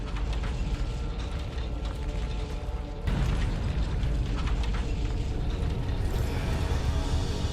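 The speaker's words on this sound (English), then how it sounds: "There was just too much explosions going on." Dense, continuous in-game explosions and rumbling mechanical battle noise from the Warhammer 40K Space Marine video game, loud and sustained throughout, with a sharp surge in intensity partway through.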